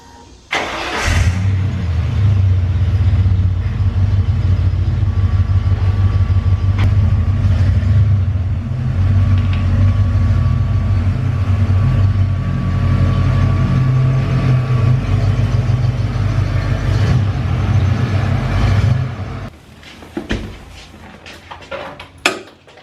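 A Ford Bronco truck engine starts and runs loudly with a steady low rumble as it is driven indoors into a workshop, cutting off near the end, with metallic clinks at the close.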